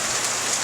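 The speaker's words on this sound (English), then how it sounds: "We're getting pounded by rain right now," Heavy monsoon rain pounds down steadily in Lakeside, Arizona, a dense, continuous hiss of downpour close by with no talking.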